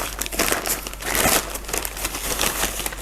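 Tape being handled on orchid packaging during an unboxing of a Phalaenopsis, a continuous close crinkling and rustling of plastic and tape for about three seconds, fairly loud and with no talk.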